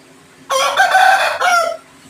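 A prized fighting rooster crows once, loud and close, a single drawn-out call in two strong bursts against a quiet background.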